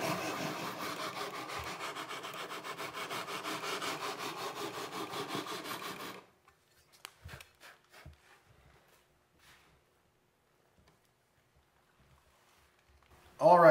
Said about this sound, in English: We're just sanding away